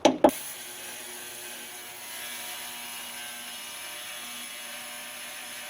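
An ultrasonic cleaner runs with a steady, loud mechanical whine and hum after two brief clicks at the start, with no talking.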